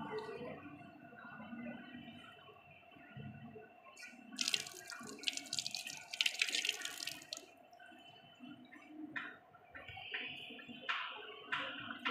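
Tap water runs and splashes while placoid scales are rinsed during a minor dissection mount, a steady close trickle with brief louder gushes and drips in a quiet lab setting.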